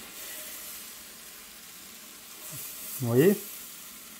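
Cheese bread rounds cooking in a pan, a soft steady sizzle that swells into a brief louder frying burst as the pieces are turned, with a short spoken remark.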